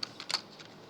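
A few quick keystrokes on a computer keyboard, faint and close, in short separate taps with quiet gaps between them and no voices.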